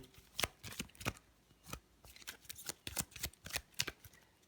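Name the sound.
shuffling a deck of board game cards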